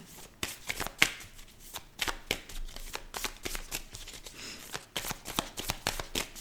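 Hands shuffle a deck of tarot cards up close, a run of quick riffling bursts and soft slaps with short pauses between them.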